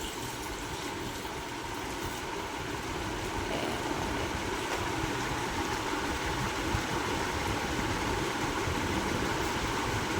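Water is poured into a jar packed with grapes for homemade wine, a steady, continuous rushing pour at moderate level with no talking.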